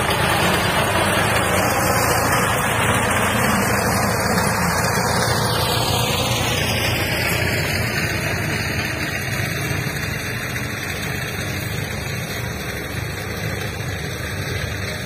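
A harvesting machine cuts wheat in a field, its engine a loud, continuous roar close by, with sweeping tonal shifts as it moves and works, steady for the whole stretch.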